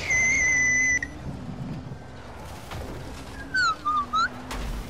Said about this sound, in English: Okay, stop whistling.